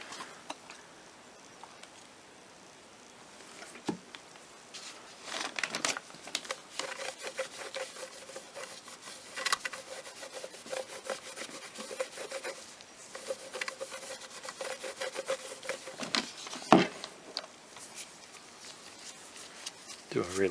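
Faint rubbing and scraping while cleaning a Corvette C5 outside rearview mirror, irregular strokes and taps with a sharp knock near the end, under quiet speech.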